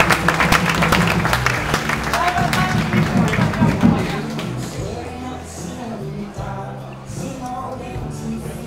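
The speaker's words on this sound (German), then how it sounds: "Und deshalb kriegt es besonderen Applaus für ihn." An audience at a wrestling competition claps for a wrestler, the applause strongest at the start and then fading, with an announcer talking over it and background hall noise.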